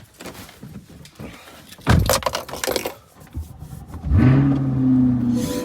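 A car door clunks and keys rattle, and then the engine cranks and catches, settling into a steady idle as it begins warming up.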